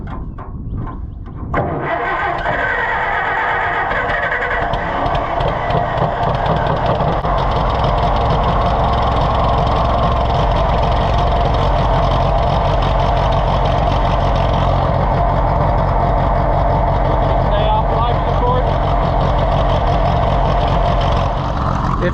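An Allis-Chalmers WD tractor engine fires up after a brief crank and settles into a loud, steady, rough-running close chug with a flooding carburetor, continuing unbroken with no voices.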